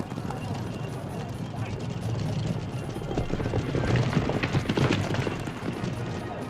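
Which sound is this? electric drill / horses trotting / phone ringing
horses trotting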